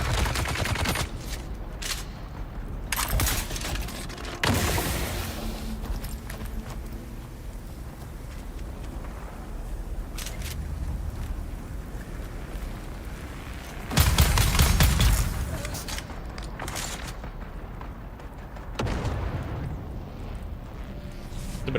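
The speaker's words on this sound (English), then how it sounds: "So that explains all the shooting noises." Sustained gunfire from a Dune: Awakening firefight, with bursts of rapid shots and louder clustered volleys standing out over a steady rumbling background.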